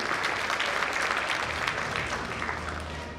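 Audience applause at a launch and celebration night event, a dense steady wash of many hands clapping throughout, fairly loud and close, slowly easing toward the end.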